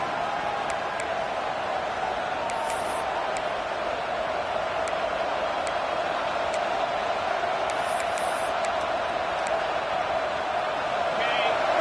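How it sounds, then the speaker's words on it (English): Steady roar of a football stadium crowd at an LSU vs UGA college game, a dense, continuous wash of massed voices holding level throughout, with faint scattered whistles and shouts rising above it. "Listen to the crowd energy here in the early going."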